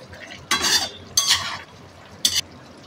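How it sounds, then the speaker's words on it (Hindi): A cover lifted from a simmering mutton karahi wok, with three bursts of clattering metal and sizzling hiss, fairly close and loud, with no voices. "कवर उठाकर कढ़ाई को चेक करेंगे"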